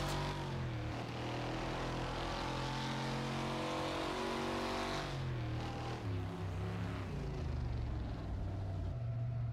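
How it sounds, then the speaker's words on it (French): A damaged car engine in the demolition-derby racing game Wreckfest drones loudly and continuously, its pitch sagging and climbing unevenly as it struggles to shift gears, with no talk over it. "Ouais, mon moteur est largement touché, vous le entendez? Il galère à passer les vitesses."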